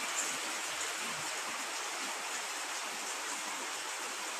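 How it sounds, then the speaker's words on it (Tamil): Heavy morning rain on an April summer day pours in a constant, even hiss, close and loud, with no voices. "கோடையில் நல்ல மழை காலையிலே."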